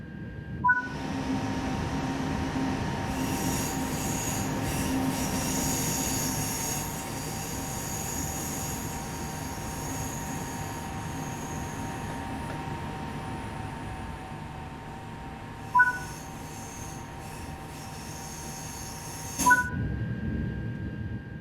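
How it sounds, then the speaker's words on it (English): A high-speed train on the Marseille to Avignon line in Train Sim World 5 rolls along with a steady low rumble and whine, with a few sharp clunks breaking through the smooth running noise. "Let's take a look now while the train is in motion."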